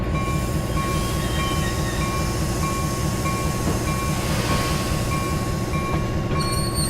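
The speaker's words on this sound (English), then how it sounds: "So that Amtrak train that you're seeing passing by is part of the City of New Orleans set" An Amtrak train from the City of New Orleans set in the Railworks simulator rolls past, a loud, steady mechanical rumble and rhythmic wheel clatter with a sustained high whine running throughout.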